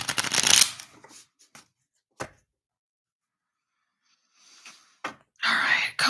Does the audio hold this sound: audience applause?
no